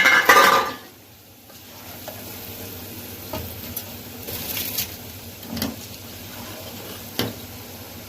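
Basmati rice pouring into a hot cooking pot with a brief rush and hiss, followed by soft stirring scrapes and a faint sizzle in a quiet kitchen.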